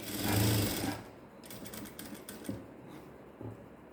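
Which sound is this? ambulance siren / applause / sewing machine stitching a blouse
sewing machine stitching a blouse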